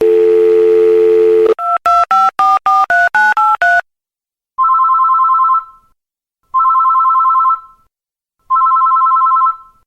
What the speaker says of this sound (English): Edward, do you want to dial him in?